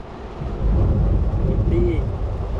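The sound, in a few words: thunder and heavy rain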